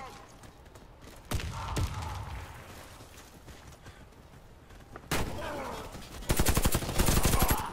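FN SCAR-H rifle fire in the online shooter Warface during a team deathmatch: loud, close bursts of rapid gunshots, with a dense automatic volley at the end and sharp single shots earlier, over game noise and a voice.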